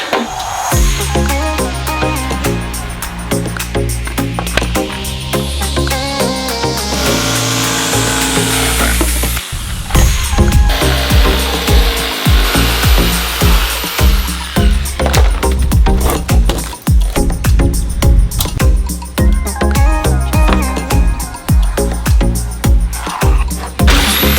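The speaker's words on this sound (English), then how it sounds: "I need to cut some thin pieces of plywood to cover my sides" A power saw whines loudly through thin plywood, cutting in long continuous passes with rattling vibration and brief pauses, close up.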